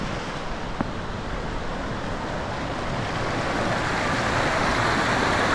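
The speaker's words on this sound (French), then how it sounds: "On entend l'eau qui passe." Steady broadband rush of running water from a small waterfall by the via ferrata at Lac de Villefort, continuous and fairly loud with no voices.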